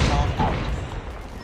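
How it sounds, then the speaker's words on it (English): A grenade blast rumbles heavily in a Call of Duty match, a loud low boom that rolls off over a second and a half of dense, noisy gunfire. "Enjoy the nade, buddy!"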